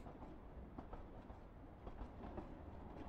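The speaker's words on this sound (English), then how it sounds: "these electric trains are glorious marvels of engineering" An electric train in the Over the Alps game runs along the track with a low steady rumble and faint rhythmic clatter of the wheels, quiet and even throughout.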